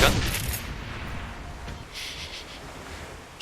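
Shotgun blasts and combat effects from the Shadowrun Hong Kong video game, with a sharp boom at the start followed by a rumbling, crackling tail and a further burst near the end.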